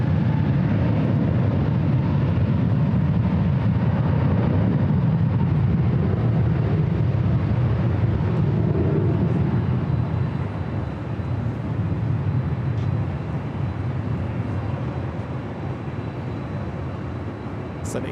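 A Delta Airbus A321neo airliner rolls down runway 24 left at LAX with a broad, loud rumbling roar that swells and then slowly fades, heard from a distance.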